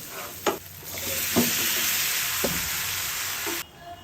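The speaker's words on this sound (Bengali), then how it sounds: "হলুদ ধনিয়া গুঁড়া ভালো করে মিক্স করে নিই" Turmeric and coriander powder stirred in a frying pan for a fish curry with brinjal and potatoes: a loud sustained sizzle with a few sharp spatula scrapes, cutting off abruptly near the end, no voices.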